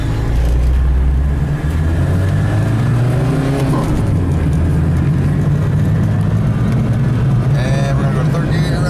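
A 1981 Volkswagen Rabbit pulling away in first gear, its engine loud, close and rumbling steadily as it gains speed, with someone talking over it.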